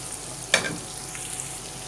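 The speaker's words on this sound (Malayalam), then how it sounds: "ഒരു വലിയ സവാള ഇതുപോലെ ചെറുതായിട്ട് അരിഞ്ഞത് ചേർത്ത് കൊടുക്കാം. നമുക്കൊന്ന് വഴറ്റിയെടുക്കാം." Finely chopped large onion sautéing in a pan for South Indian tomato rice, a soft steady sizzle with one brief scrape or clink of a spoon partway through, close and quiet.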